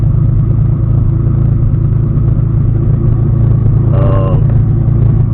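A BMW M20 engine idles steadily just after its first start, a loud, continuous low rumble with an even throb, recorded up close, with a brief higher whine rising partway through.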